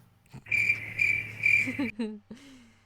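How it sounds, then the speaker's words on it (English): Crickets chirp in three clear, pulsing trills at close range, followed by a few brief unrelated knocks and squeaks. "that's some good crickets right there."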